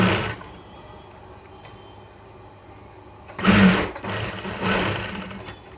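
A sewing machine stitches a gathering band on fabric, running in a short burst at the start and then a longer, louder run of close stitching with brief pauses, with no talking.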